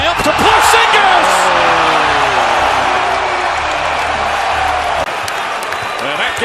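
A basketball arena crowd roars loudly after a Porzingis alley-oop, a dense sustained wall of cheering with a few sharp impacts, easing slightly near the end while a commentator's voice runs underneath.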